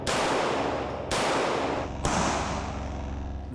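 Three loud, close 9mm pistol shots are fired at a bullet blocker backpack on a range. Each sharp crack rings and fades before the next, about a second apart.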